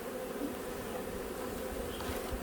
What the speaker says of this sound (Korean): 지금 그 광식사양기 밖으로 또 벌이 넘치고 있는 것 같아요